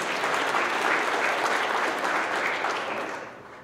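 Audience applause with scattered cheering at a company monthly celebration honoring trucking employees for their years of service, a steady loud wash of clapping for about three seconds that tapers off at the end.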